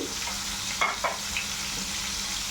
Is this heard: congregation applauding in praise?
no